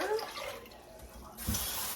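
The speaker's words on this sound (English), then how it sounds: "we're going to add 6 cups of water" Water pours steadily into a small crock pot nearby, a short splashing stream with no talking.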